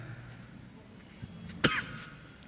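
A single sharp cough from a man with a cold, followed by a brief rasping throat-clear, close and moderately loud against a quiet room.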